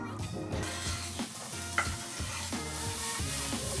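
Onions cook in a pan on medium-low heat, a soft close sizzle with a few spoon stirs and scrapes, fairly quiet and steady throughout.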